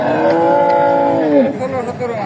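A young bull at the Alampur cattle market in Kushtia, Bangladesh, lets out a loud, long, close moo that bends downward, followed by a shorter, rougher second call.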